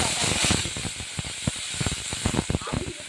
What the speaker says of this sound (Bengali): কড়াইতে ফোড়ন দিলাম পাঁচ ফোড়ন অবশ্যই আর দিলাম দুটো শুকনো লঙ্কা